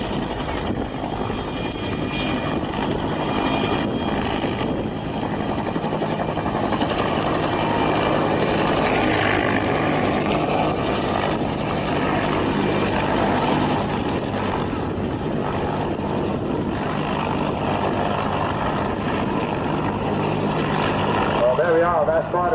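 A Westland Whirlwind helicopter flies in to land at a helicopter museum, its rotor and engine producing a loud, steady, broadband roar throughout, with an announcer talking over it.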